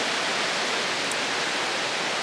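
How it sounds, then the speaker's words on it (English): A mountain stream runs along Newfound Gap Road in the Great Smoky Mountains, a steady broadband rush of flowing water heard close and unbroken, with no talking. "I love walking next to running water."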